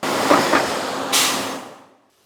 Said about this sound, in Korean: 차들이 지나갈 때마다 덜컹거립니다.